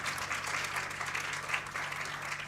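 Audience applause at a live jazz concert at Tribeca Performing Arts Center, a moderate, steady round of clapping from a seated crowd lasting the whole moment with no speech.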